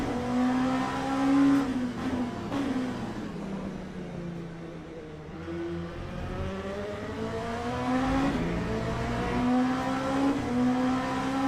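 An LMP2 prototype race car in the Le Mans Ultimate racing game, its engine droning loud and close, pitch climbing and dropping through gear shifts and braking zones with continuous rising and falling revs.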